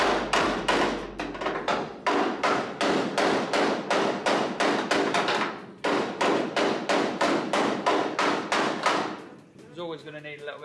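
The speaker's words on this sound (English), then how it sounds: "A bit of knocking about." Close, loud hammering on steel bodywork during rear corner and sill repairs on a 1983 Volkswagen Golf Mk1, fast regular metallic strikes in long runs with one short break, ending in a faint whine.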